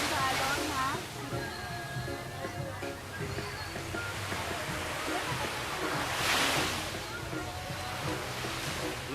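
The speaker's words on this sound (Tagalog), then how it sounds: "Wala, malaki na alon." Steady roar of surf washing in at a beach in Calatagan, Batangas, broadband and continuous, with a louder wave swell midway and faint Filipino voices underneath.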